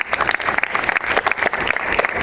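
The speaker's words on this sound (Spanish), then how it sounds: "les pido, le demos un fuerte aplauso también" Applause from the audience at a talk on law, entrepreneurship and new technologies, a lively burst of many hands clapping with uneven, rippling peaks, heard alone without speech.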